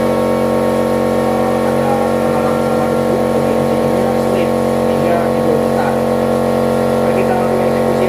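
A Yamaha Mio Gear 125 scooter with dusty CVT clutch judder runs close by with a loud, steady droning engine note, while someone talks over it.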